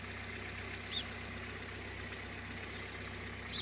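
A 20-year-old Hyundai Solaris idles quietly on green 5W-30 oil, giving a low even drone threaded with a steady rapid tapping knock and no voices.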